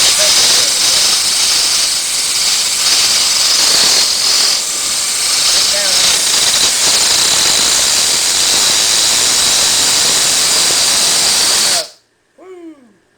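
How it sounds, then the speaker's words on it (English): The bearings of an AC induction motor being converted to a permanent magnet generator spin freely. They give a loud, continuous airy whir and hiss for about twelve seconds, then stop abruptly, and a voice briefly follows. "them bearings spin pretty good"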